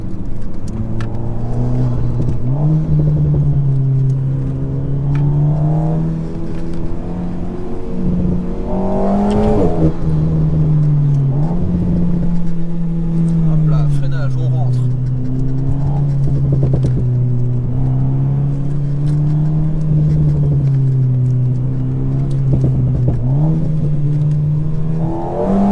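A modified Alpine A110 with a new suspension setup drives hard. The engine sounds loud and close throughout, its pitch rising and falling steadily as it accelerates and shifts through gears.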